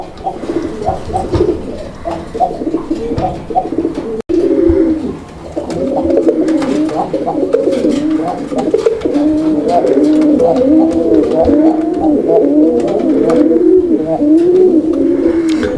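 Raj Golla pigeons coo repeatedly in a loft, rolling throaty calls overlapping steadily and close by with no talk.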